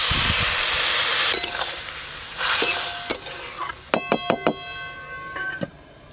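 Water poured into a pan of gime greens with fried lentil dumplings (bori) makes a loud rushing sizzle at first, then fades to a softer simmer with a few ringing utensil clinks against the pan.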